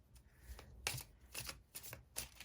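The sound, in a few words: tarot cards being shuffled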